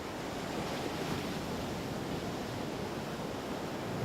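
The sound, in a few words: ocean waves breaking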